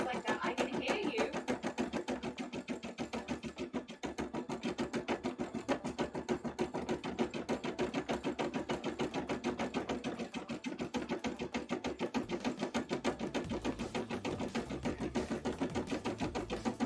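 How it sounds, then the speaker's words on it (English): A sewing machine runs steadily in rapid, even stitching bursts, fairly close, with faint talk now and then underneath. "I hear you, sewing machine."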